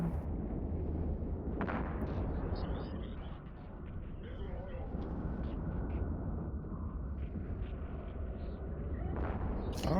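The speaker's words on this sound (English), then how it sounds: "I think they redid explosions too since I last played" Rumbling video game explosions under a continuous low roar of battle noise, with a few sharper bursts standing out, fairly faint and steady throughout.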